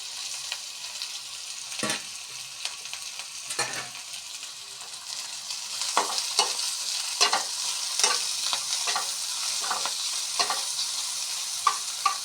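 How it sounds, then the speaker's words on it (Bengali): Garlic sizzles in a pan alongside mushrooms, fried bean seeds and dried chandana fish, a soft, steady hiss that grows slightly louder partway through, punctuated by frequent sharp clicks and scrapes of stirring, with no talking. "শিম বিচি ভেজে দিয়ে আলু দিয়ে রান্না করছি এই যে দিয়ে দিচ্ছি এখন রসুন"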